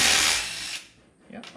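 Power tool whirring as it undoes the bolts on a damaged piston from a knocking Ford Mustang 4.6L 2V engine, a brief loud burst that cuts off, followed by a faint rattle.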